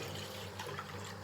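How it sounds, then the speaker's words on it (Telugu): Water is poured from a vessel into masala powder for homemade pani puri, a short, soft, steady splash and trickle heard alone. "మనకు దానికి సరిపడా వాటర్ వేసుకోవాలి."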